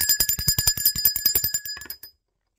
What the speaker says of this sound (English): I'm going to ring the bell for that.